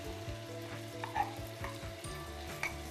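Onion and garlic fry in a Silit Sicomatic pressure cooker, a steady close sizzle with a low, regular stirring rhythm and occasional spatters, no voices.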